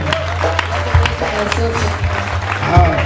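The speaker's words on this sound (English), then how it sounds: "Clap your hands again for Jesus." Applause from a church convention crowd, a steady wash of clapping with a voice rising over it now and then.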